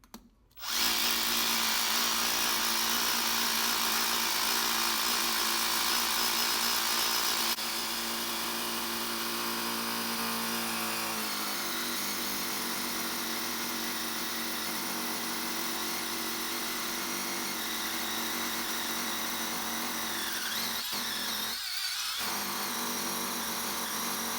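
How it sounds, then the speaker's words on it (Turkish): A cordless power drill running on a LiFePO4 battery whirs steadily and loudly for the whole stretch, its pitch dipping a few times as it bites, then cuts off near the end. "Delme işlemine başladığımızda ise hemen performansını gözlemleyelim."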